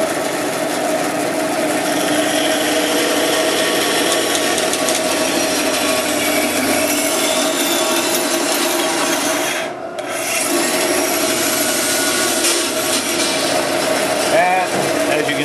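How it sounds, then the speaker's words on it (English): A bandsaw runs steadily while its blade cuts a piece of wood along a marked line, giving a continuous loud rasping whine with a brief dip near the middle; faint speech may sit underneath. "I can use the bandsaw to follow that line."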